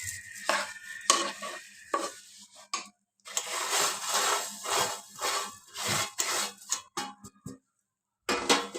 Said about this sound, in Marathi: आणि हे मिक्स करून घेऊया.